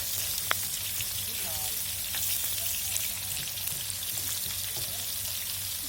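Large sardines frying in a pan over a wood fire, sizzling steadily as they are turned, with a soft crackle and faint background murmur.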